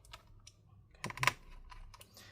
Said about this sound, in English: you do this until you hear the screws click in their spots